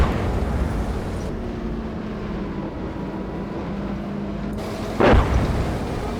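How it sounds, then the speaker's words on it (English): Artillery fire in Gunner Heat PC during an M60A3 tank mission, a low rumbling backdrop topped by one sharp, loud boom near the end, with no voices. "I hope my artillery is obscuring his vision."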